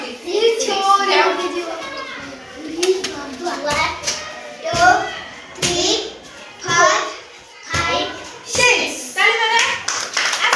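A group of children clap their hands during a classroom counting game, with sharp bursts of claps at a rough, repeated rhythm mixed with the children's chanting voices.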